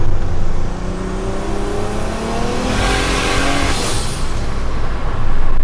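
A 1JZ-swapped big-turbo Toyota Hilux pulls hard under acceleration, its engine note climbing steadily in pitch and roaring loud and close throughout, with no talk over it.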